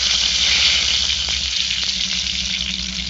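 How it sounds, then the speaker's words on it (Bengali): Bay leaves sizzle in hot oil in a wok, giving a loud, steady frying hiss that runs throughout with a low rumble beneath it. "তেলের মধ্যে দেব কয়েকটা তেজপাতা"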